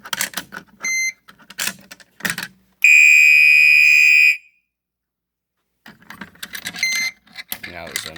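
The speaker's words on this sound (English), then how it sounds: "So now, I'm just going to pull this pull station." Fire alarm set off from a pulled manual pull station in a small alarm system test, a loud, steady electronic tone lasting about a second and a half, surrounded by clicks and typewriter-like clacking with no voices in the clip.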